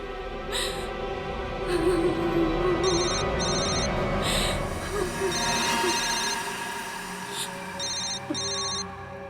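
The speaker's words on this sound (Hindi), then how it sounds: "फोन उठाओ, स्पीकर पे डालो" A telephone rings in repeated short electronic bursts over a busy, noisy background with some voices, the trilling pattern recurring several times.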